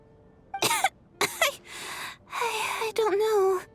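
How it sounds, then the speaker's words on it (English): A character in the video game Genshin Impact coughs in several harsh, raspy bursts up close, with breathy strained sounds between the fits. "How long have you had that cough"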